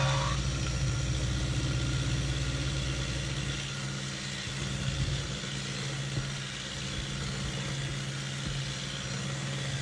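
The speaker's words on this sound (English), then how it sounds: "We're going to grab our stick blender." A stick blender blitzes a lymphatic support soap mixture on low, giving a steady, fairly loud motor whir that holds evenly, with no talking, for about ten seconds.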